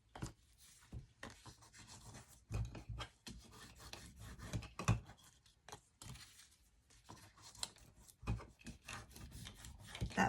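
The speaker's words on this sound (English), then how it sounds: "we want to fold those up and burnish them, make them really folded good and strong" Folded paper pieces for a tri-fold folio are burnished flat with quiet, close rubbing strokes that come in irregular bursts of scraping, with brief pauses between passes.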